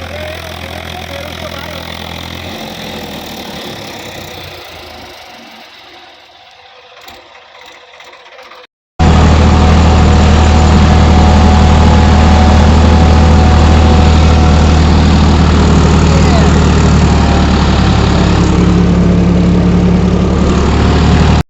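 A new tractor engine idles with a steady low rumble, starting abruptly and loudly partway through after quieter background noise.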